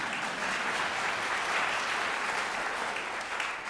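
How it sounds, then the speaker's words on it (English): Audience clapping for a Beethoven symphony: a dense, even wash of applause from a large crowd that holds steady and loud throughout, with no talking over it. "Now, you can always clap for Beethoven"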